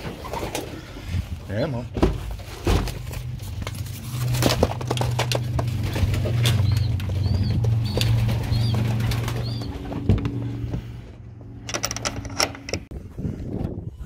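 Pigeons coo in a low, throaty rumble amid clattering wing flaps and scuffling, close by, while a person briefly speaks.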